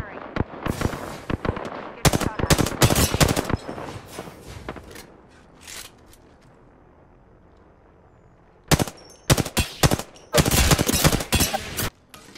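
Gunfire in the Apex Legends video game: rapid bursts of sharp automatic shots, close and loud, come in two clusters with a quieter gap of scattered faint shots between them, with people talking over the action.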